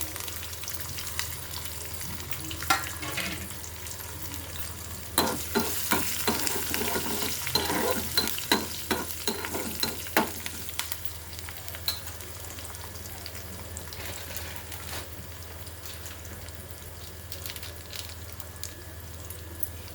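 Garlic, dried red chillies and curry leaves fry in ghee as a tempering for dal. A soft, continuous sizzle carries a burst of stirring clicks and scrapes in the middle of the clip, and no voices are heard.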